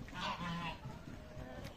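Geese honk faintly outdoors in a poultry yard, a few scattered calls against a low, noisy background.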